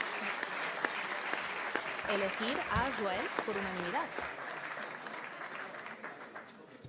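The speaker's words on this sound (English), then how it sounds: "I will assume that applause meant there was a motion for acclamation" Applause in a meeting hall after a motion to elect a chair by acclamation, clapping running throughout while a speaker talks over it in the middle.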